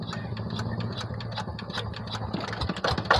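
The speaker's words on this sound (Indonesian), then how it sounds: "mesin sudah dibunyikan." A hand-crank-started rice field plough tractor engine runs nearby with a steady, dense mechanical chatter and a low rhythmic thrum, growing slightly louder toward the end.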